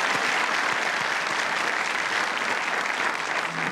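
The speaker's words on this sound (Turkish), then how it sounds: "Bu eylemi alkışlıyor musunuz?" A television studio audience on a Turkish talk show applauds in a continuous, loud, even wash of clapping that holds throughout without pause.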